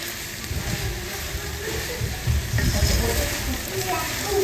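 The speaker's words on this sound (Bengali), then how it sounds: "মোটামুটি হয়ে গেছে আর একটু হালকা ভাজা ভাজা করবো" Noodles fry in a pan with a continuous soft hiss and low rustling stirring, fairly close and steady throughout, with no talk.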